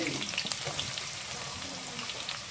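Chopped onions sizzling in hot oil for Hyderabad green chilli chicken, a steady close crackle and hiss with scattered sharp pops and spits, no voices over it.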